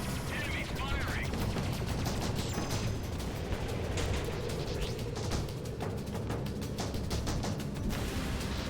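Enemy pirates fire guns in a video game, a dense, continuous rattle of gunfire with crashes and dull impacts throughout.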